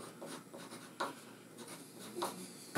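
Pen writing by hand on paper, a close, quiet scratching with short strokes and brief lifts, steady and continuous, no talk over it.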